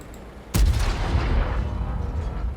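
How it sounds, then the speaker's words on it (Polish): A single heavy tank cannon blast in the video game World of Tanks booms out sharply, followed by a long rumbling low echo that slowly fades. "Jak czołg strzela?"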